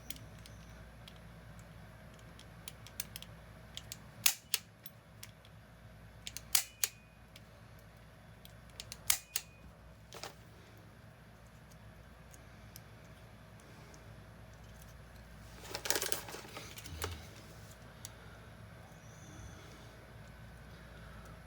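An old ethernet cable being cut with a tool, a few sharp snips and clicks spaced across a quiet room, plus a brief rustling burst later, close up with no voices.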